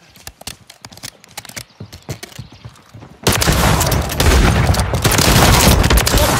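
Heavy gunfire and explosions in a Call of Duty multiplayer hardpoint match, sparse sharp shots at first, then a dense, loud, continuous barrage of automatic fire and blasts.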